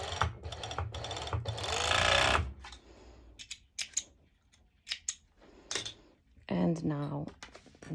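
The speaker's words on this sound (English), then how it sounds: "This is really, really important that you are serging the longer side or stitching." Serger sewing machine stitching the fabric of a cut-out cover-up dress, a loud continuous whir for about two seconds, then scattered clicks and handling noises with short bursts of speech.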